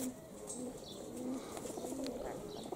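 A young pigeon coos softly in a loft, low repeated murmuring calls spaced a few times over the span, with faint chirps and rustling in the background.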